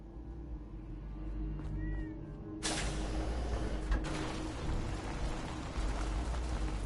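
A cat in Fallout 4's Far Harbor gives a short, clear meow, then a loud, steady rushing noise takes over with a sharp knock partway through.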